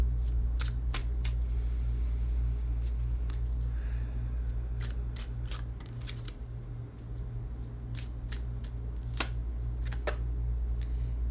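A tarot deck is shuffled by hand in a series of sharp, close card riffles and snaps over a steady low background hum, the clicks coming in irregular bursts.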